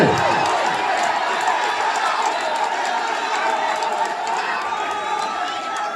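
A crowd at a Kedamangalam versus Pulichod team match claps and cheers in a continuous roar with shouts mixed in, loud and steady throughout, with a steady tonal hum underneath.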